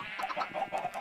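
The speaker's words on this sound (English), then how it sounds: "I hear chickens." Chickens cluck in short, repeated bursts in Minecraft, fairly close, over a steady background hum.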